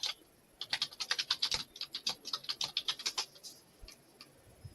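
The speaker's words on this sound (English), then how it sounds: "If you're typing, need you to mute." Rapid typing on a computer keyboard during a call, a steady run of crisp key clicks for several seconds that thins out into a few last taps.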